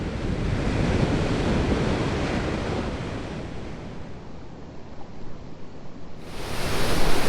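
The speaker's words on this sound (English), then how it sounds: "There's so many waves." Ocean surf at Troncones beach roars in a loud continuous wash that ebbs slightly, then swells again as the next wave breaks, with wind buffeting the microphone and no talking.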